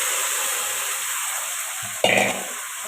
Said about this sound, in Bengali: আমি কষাতে থাকবো মাংসটা, প্রায় আমি 7 থেকে 8 মিনিট মতো কষাতে থাকবো ভালো করে।